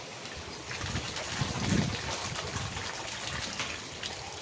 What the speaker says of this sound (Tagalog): Nalagyan ko ng tubig yung washing